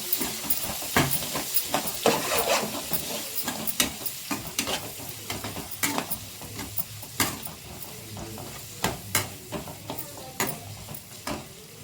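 Chopped chilies and onion frying in a pan for a Nellore-style silver fish curry, stirred steadily: a continuous sizzle with repeated scraping clicks of the spoon against the pan, close and fairly loud, with no talking.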